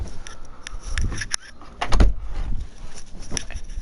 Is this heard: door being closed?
yes